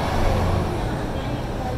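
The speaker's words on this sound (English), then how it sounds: "it's a little bit loud with a lot of buses going by" Buses passing on a busy street outside a restaurant dining room in Manta, Ecuador make a steady, loud traffic roar with a continuous engine rumble throughout.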